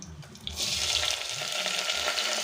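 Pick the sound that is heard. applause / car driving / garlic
garlic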